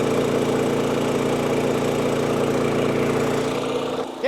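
A high-pressure air compressor runs during a MIL-1214-G air test at about 3,000 to 3,500 PSI, giving a loud, steady mechanical drone with a rhythmic pulsing hum that cuts off abruptly at the end.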